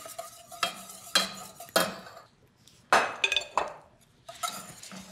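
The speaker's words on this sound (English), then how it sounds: "Now add this to your pot and whisk this in." Whisking a green tea custard mixture in a pot, with separate bursts of metal whisk clinking and scraping against the pot and short pauses between strokes, close and fairly clear.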